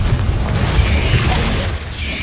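A Confringo fire spell explodes in Hogwarts Legacy gameplay, a continuous loud booming blast with a deep low rumble that holds steady for about two seconds, no voices over it.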